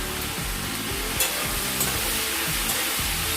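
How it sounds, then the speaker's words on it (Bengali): Fish curry with slit chilies and chopped onion stirred in a pan, a steady close sizzle of frying with spatula scrapes and soft clinks recurring through the whole stretch. "দিয়ে এটাকে ভালো মতো করে নাড়াচাড়া করে দিব। সঙ্গে দিয়ে দিব লঙ্কা চেরা আর পেঁয়াজ কুচি।"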